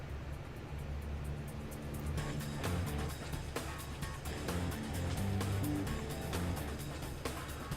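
A truck engine held at full throttle in Euro Truck Simulator 2, a steady, droning roar at high revs with scattered sharp clicks and knocks over it.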